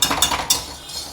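A utensil stirs rava kesari in a pan, giving a few quick metallic scrapes and clinks close by over a soft continuous background hiss.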